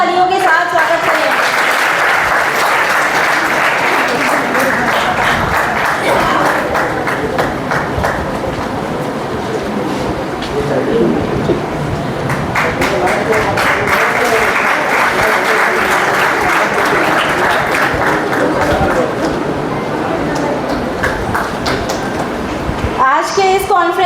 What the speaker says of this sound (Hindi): जरा जोरदार तालियों के साथ स्वागत करें।